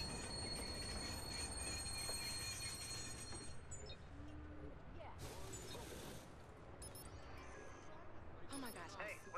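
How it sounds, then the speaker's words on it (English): An underground train pulls into a station in the video game Watch Dogs, its wheels squealing and carriages rumbling in a steady, fairly quiet roar that runs through the whole stretch with other game sounds around it. "Northbound train arriving shortly."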